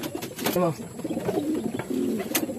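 Pet pigeons coo in soft, repeated low throaty calls close by, with a voice talking briefly among them.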